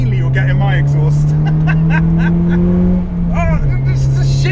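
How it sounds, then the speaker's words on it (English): A close, loud car exhaust drones steadily as the engine climbs slowly in revs, then dips and catches during a quick shift through a hybrid racing short shifter, with a person talking over the engine. "mainly you're getting my exhaust."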